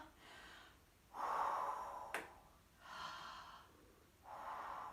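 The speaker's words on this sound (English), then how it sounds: "Inhale." Breaths during a pullover exercise in a beginner workout for people 55 and older: three slow, airy inhales and exhales, close and fairly quiet, alone without talk.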